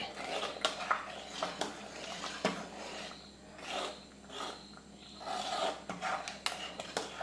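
A spoon scrapes and stirs cardamom powder into payasam, a Kerala green gram and rice pudding, in a pot: soft uneven rasping strokes with occasional clinks against the metal, close and quiet, with no voices.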